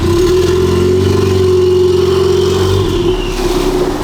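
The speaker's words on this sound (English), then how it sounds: "first drive with the new exhaust configuration" Car engine with a new exhaust configuration, a loud close steady drone that holds and then eases slightly near the end, alone without talk.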